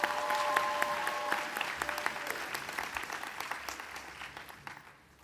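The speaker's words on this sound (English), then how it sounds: "Let's give all of our speakers another round of applause." A high school graduation crowd gives the class of 2021 speakers a round of applause, many hands clapping in a busy patter that gradually thins and fades, with a brief tone at the start.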